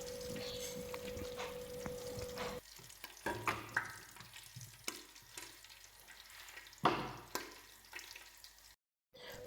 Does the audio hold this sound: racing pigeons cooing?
no